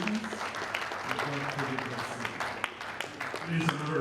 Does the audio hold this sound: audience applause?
yes